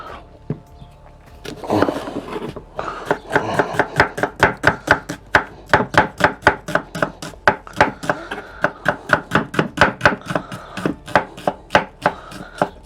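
Fast rhythmic chopping with a home kitchen knife on a board while preparing a wood-fired potée, dozens of crisp, evenly spaced knocks close up after a few slower opening strikes, with no talking.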